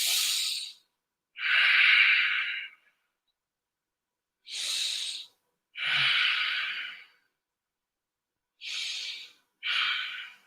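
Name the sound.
deep breathing in and out through the nose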